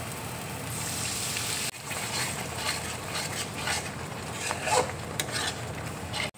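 Fried masala for Amritsari paneer bhurji hisses in the pan as a little water is added, a steady close sizzle that dips briefly and returns with light stirring and scraping.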